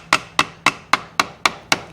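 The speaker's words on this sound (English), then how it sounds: "technique is just to hammer around the edge, and basically the edge of the metal and the hammer cuts through the gasket" Eight sharp, evenly spaced hammer taps strike an engine gasket laid over a metal edge, cutting it for a 1986 Nissan engine; close, crisp and steady with no talking.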